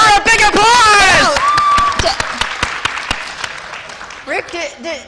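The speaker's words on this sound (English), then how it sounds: "Give her a big applause." Audience applause at a magic show, clapping and crowd noise under excited voices, with a rising exclamation at the start and talk continuing as the applause thins out.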